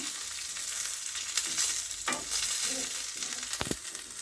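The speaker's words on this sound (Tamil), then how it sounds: "இதை கொஞ்சம் தேங்காய் நல்லா வதக்குற வரையும் வதக்கிக்கிறோம்" Grated coconut sautéing in a pan for Chettinad chicken gravy, a dense continuous sizzle with a couple of brief stirring scrapes and clinks, close and steady.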